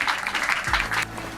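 Applause for guests at an Eid event at a foundation with special children, a short burst of crowd clapping with a low voice starting under it near the end.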